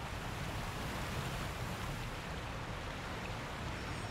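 Water in the video game Sekiro: Shadows Die Twice, a dense, continuous broadband rush like surf, loud and steady with no voices.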